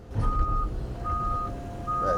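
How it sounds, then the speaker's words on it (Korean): Steady electronic beeps from a HD Hyundai excavator's 2D grade control system signalling zero level, repeated high tones in a regular on-off pattern over the low rumble of the running engine. "제로 레벨을 맞고 삐 소리가 나죠."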